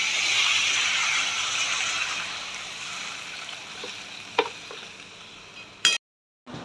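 Potatoes frying in a little oil with mustard seeds, a steady close sizzle that fades slightly over time, with a couple of sharp clicks near the end before a brief silence.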